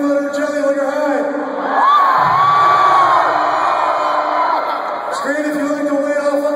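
A concert crowd at the Congress Theater in Chicago, during a show, swells into loud, sustained screaming and cheering for a few seconds over the sound of amplified music.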